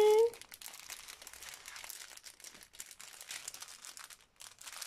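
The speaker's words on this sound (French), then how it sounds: "Si j'arrive à ouvrir le petit sachet." A small plastic sachet is crinkled and torn open up close, giving a steady run of soft crackling and rustling with a brief tone at the start.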